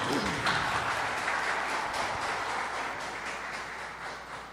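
An audience at a spiritual gathering applauds steadily for a few seconds, a dense, moderately distant wash of clapping that slowly fades slightly toward the end.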